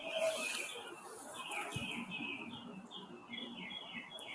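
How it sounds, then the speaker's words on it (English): Birds chirp and tweet in quick repeated phrases outside a home in Florida against a steady outdoor hum, fairly faint and at a distance, with a brief low thump partway through. "Lots of birds, though."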